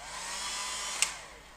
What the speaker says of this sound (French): Si vous voulez accélérer le séchage, il suffit d'un sèche-cheveux.